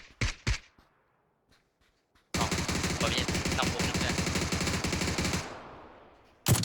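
A short burst of gunshots in the battle game PUBG opens the clip. After a pause, a long, loud stretch of rapid automatic fire follows and tapers off, and one more shot sounds near the end.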